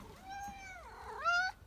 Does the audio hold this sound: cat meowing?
yes